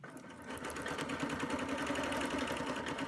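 A quilting sewing machine stitching a circle along a template for a Baptist Fan border, a fast steady mechanical hum and needle rattle that starts up after a brief pause and runs on evenly, close by.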